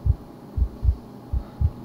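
A slow, deep heartbeat thumps in the horror video game Dark Domination, five low pulses in loose pairs, heavy and close against a faint hum.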